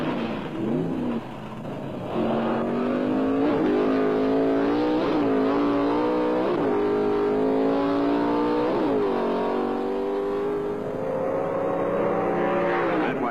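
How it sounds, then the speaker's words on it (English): Plymouth Hemi Duster Pro Stock drag racing cars roar loudly at the NHRA Indianapolis Pro Stock Eliminator final, engines revving hard through repeated rising gear-shift sweeps, close and sustained with no talk. "the Pro Stock Eliminator Final saw Arlen Banky racing Sucker Martin in an all-Hemi Duster contest"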